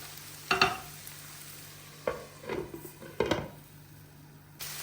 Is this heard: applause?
no